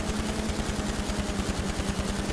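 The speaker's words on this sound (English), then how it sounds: "Oh, he's shooting back" Rapid automatic gunfire rattles in GTA 5 as a fast, evenly spaced stream of shots fires without pause, loud and close over a steady droning engine hum.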